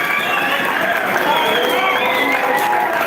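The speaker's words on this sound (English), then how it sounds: "Another round of applause for the champions." A crowd at an awards event keeps up steady applause with some cheering and voices mixed in, a continuous, full roar with no pauses.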